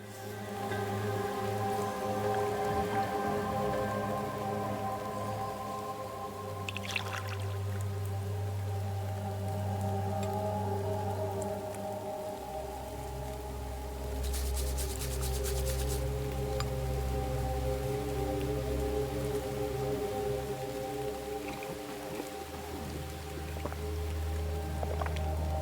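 Steady rain patters throughout a video game scene, a continuous soft hiss of falling drops layered with sustained low music tones and no talking.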